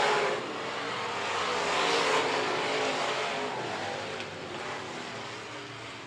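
Street stock race cars running wheel to wheel on a speedway during a fall feature race, a continuous broad engine roar that swells and fades slightly as the pack passes, loud and somewhat distant.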